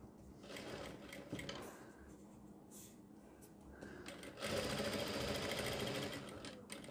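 A sewing machine runs in stop-start bursts while stitching a front neck design on a garment at a boutique, with short runs, pauses and a louder sustained stretch near the end.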